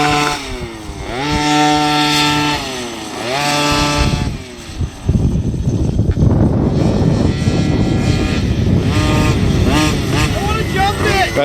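A large RC 4x4 concept truck with an OBR 46cc 12hp gas engine and silenced exhaust pipe revs loudly in sharp rising and falling bursts, then settles into a sustained close buzzing roar.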